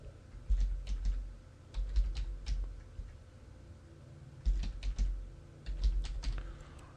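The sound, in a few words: typing a password on a computer keyboard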